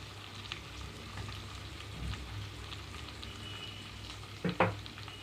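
Onions frying in a pan with tomato, turmeric, potato and raw banana pieces being added, a steady soft sizzle with faint stirring and a couple of louder clatters near the end.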